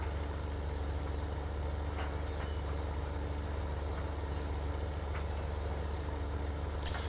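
A large truck engine in Farming Simulator 15 idles and rumbles steadily with a low drone while reversing, a few faint clicks and hisses rising above it.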